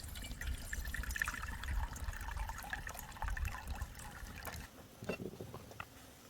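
Charcoal-flavored water is poured out during campfire cooking, giving a close, continuous splashing gurgle that thins to a few trickles and drips near the end.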